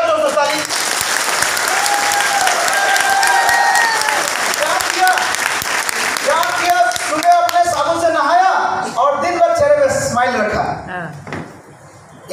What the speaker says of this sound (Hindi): बजा दो ताली।